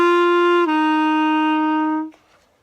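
A clarinet sounds a sustained G, then steps down to a held F before the tone stops abruptly, played solo and close with no voices.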